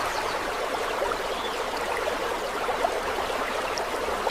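Riverside water flows in a steady, dense rushing hiss, continuous and fairly loud with no voices over it.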